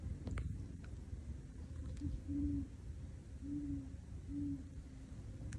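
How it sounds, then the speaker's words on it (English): Low, soft hoots from a great horned owl repeating in a slow rhythm, distant over a quiet outdoor winter background with faint rustling. "we heard the hoot hoot of what could possibly be a great horned owl"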